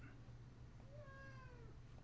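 A cat gives a single drawn-out meow, quiet but clear over a low steady background hum.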